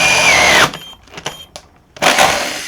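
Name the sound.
Festool TI15 impact drill driver drilling through material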